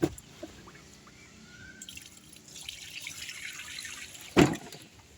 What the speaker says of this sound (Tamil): இப்போ நம்ம வந்து தண்ணியை சாய்ச்சி விட்டுடலாம்